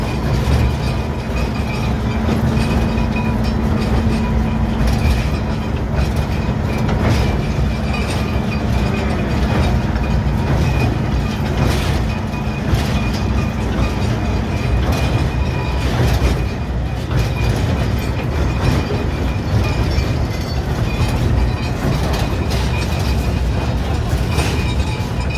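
A sugar cane lorry train on the PG Jatiroto narrow-gauge line rumbles steadily across a bridge, close and loud, with a continuous rolling clatter of wagons and a low engine drone throughout.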